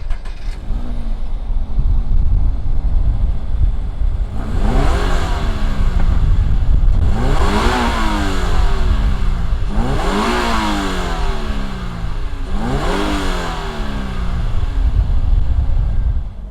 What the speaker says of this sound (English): let's fire up this BRZ TS and see what it sounds like